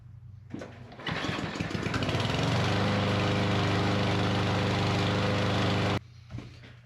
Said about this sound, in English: If your mower runs rough and backfires until it warms all the way up